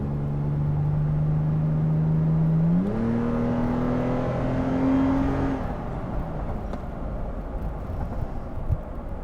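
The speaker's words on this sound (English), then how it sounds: "You do have a little bit of an exhaust note as well with that TRD exhaust." A 2020 Toyota 4Runner TRD Pro engine revs up close, its deep TRD exhaust note climbing in pitch and holding before easing off into a steady idle.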